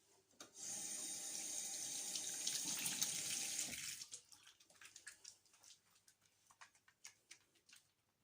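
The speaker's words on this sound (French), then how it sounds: "je vais commencer par me laver les mains avec ce savon-là" A tap runs steadily for about three seconds while hands are washed with soap at a sink, then the water stops and soft wet squelching and rubbing of lathered hands follows, close by and with no talking.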